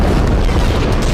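A loud, sustained low boom from explosives demolishing the Al-Shifa hospital building in Gaza, a dense rumbling blast that fills the whole moment with no pause.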